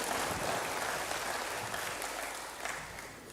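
Congregation applauding for God during a church sermon, a steady wash of clapping that gradually fades over a few seconds.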